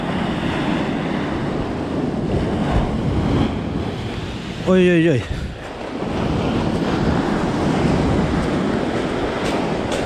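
Rough, stormy sea breaking on a Crimean beach in Sudak, a constant loud wash of surf and wind with a brief exclaiming voice partway through.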